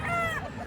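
A rooster crows loudly and close by among a flock of chickens kept by a breeder, its strained, wavering call filling nearly the whole short moment with no talk.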